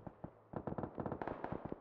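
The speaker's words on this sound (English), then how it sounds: "as Dimshik takes some shots down at J-Raw" Rapid gunfire in the battle-royale video game PUBG during a console league match: a quick run of sharp, close cracks that comes in clustered volleys, each burst loud against a quiet background.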